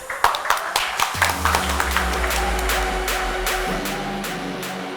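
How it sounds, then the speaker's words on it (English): An academic audience claps for a speaker introduced at a blockchain and NFT talk, several distinct sharp claps from a smaller group at first, thinning over a low steady hum. "So let's join him with a big round of applause, please."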